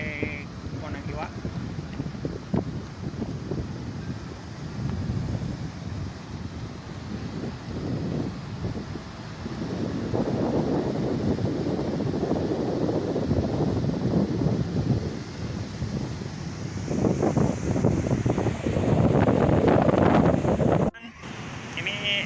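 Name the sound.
wind and waves at Kondang Iwak beach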